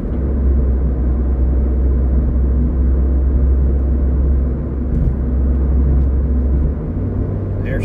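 The engine of a 2023 Mazda MX-5 GT roadster, heard from inside the cabin, drones loud and low after a downshift from sixth, a steady rumble with a brief dip and a change in pitch near the end.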